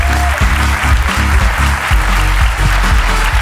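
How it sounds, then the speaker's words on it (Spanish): Studio audience applause breaks out loud and near, a dense burst of clapping with a faint voice or two underneath. "Aplauso para la ruina de Nacho."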